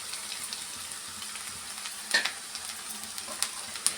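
Grated fresh coconut fries in oil with a soft, steady crackle, punctuated by a few sharp scrapes and taps of a spoon stirring it in the pan.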